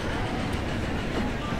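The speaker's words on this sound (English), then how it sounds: "we're just pulling into the train station at Keeley on the Keeley to Canuck run" A train in the Transport Fever video game pulling into a station, a steady broadband rumble with faint clicking running throughout at moderate loudness.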